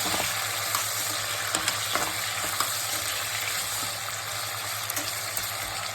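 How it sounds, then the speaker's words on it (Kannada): Tomatoes fry in a pan with a steady, close sizzle and hiss, and small pops and crackles are scattered throughout. "ಟೊಮೆಟೊ ಹಾಕ್ಕೊಂಡು ಒಂದು ಸ್ವಲ್ಪ ಹಸಿ ವಾಸನೆ ಹೋಗೋವರೆಗೂ ಇಟ್ಬಿಡ್ಬೇಕು"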